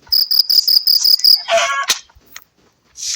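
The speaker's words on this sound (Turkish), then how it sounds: "Cırcırama. Her akşam başımızı xarab eləyir." Crickets in a Minecraft game chirp in a fast, regular series of shrill pulses for over a second, followed by a few sharp game sound effects and a brief burst of noise.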